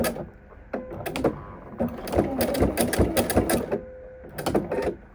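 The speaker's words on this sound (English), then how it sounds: "I'm actually going to go back and go a few more stitches." A sewing machine stitches satin trim onto a fleece blanket in short, uneven bursts of close mechanical whirring and clatter, with brief stops between runs.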